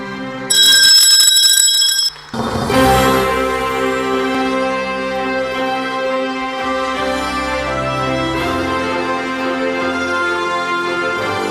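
Ceremonial bell pressed at an Indonesia Stock Exchange IPO listing, a bright sustained electric ringing that starts abruptly and cuts off after about two seconds, followed by loud music or fanfare filling the rest.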